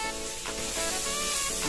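Ginger sizzles steadily in hot oil for a sweet and sour home-cooked dish, a close, continuous crackling hiss with a faint musical hum underneath and no talking.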